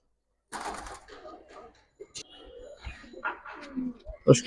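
Cobra pigeons kept for sale, giving short throaty coos and brief calls in close, scattered bursts, with some sharper sounds near the end.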